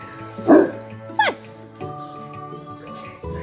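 Puppies at home let out a loud close yap, then a sharp higher yip, followed by drawn-out whiny, vocal-sounding whimpers and grumbles that continue to the end.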